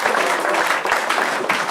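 A studio audience claps for a contestant's honesty during an escape room comedy show, a brief dense wash of applause that stays steady and fairly loud throughout.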